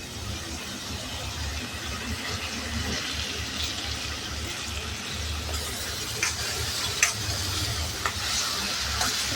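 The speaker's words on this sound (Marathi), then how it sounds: "यामध्ये आपण डाळ परतून घेणार आहे तेलामध्ये" Moong dal sautéing in oil with turmeric in a pan, a steady soft sizzle with stirring scrapes throughout and a few sharper clicks of the spoon near the end.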